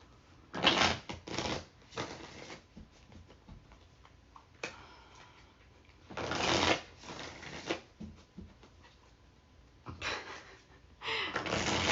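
Several bursts of brisk riffling and soft flapping as tarot cards are shuffled close by, separated by quieter rustling.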